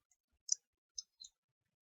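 Computer mouse clicks in a quiet room, three crisp, faint clicks over under two seconds with a tiny tick before them, nothing else audible.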